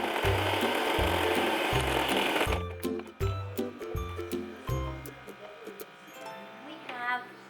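A sewing machine stitches a fabric face mask, loud and steady for a few seconds with rhythmic mechanical clatter, then stops, leaving softer tapping and handling noises.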